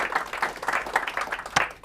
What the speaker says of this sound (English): Let's just have a round of applause just in the room